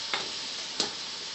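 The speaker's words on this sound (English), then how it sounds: "You hear that nice sizzle?" Shrimp for a lemon shrimp dish sizzle in a pan as a soft, even hiss, broken by two small sharp ticks.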